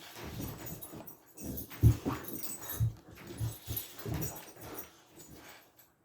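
A dog whimpers and whines in short, soft bursts, with a few breathy snuffles between them, fairly close and fairly quiet.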